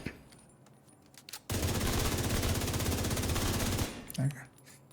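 Sustained rapid automatic gunfire from shooting in a video game, a long loud machine-gun burst of about two and a half seconds after quieter scattered sounds, ending abruptly.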